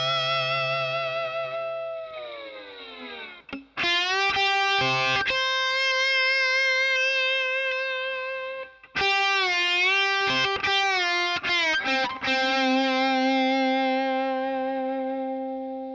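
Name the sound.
slide guitar playing first line of a song from tab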